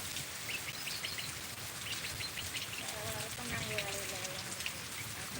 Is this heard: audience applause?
no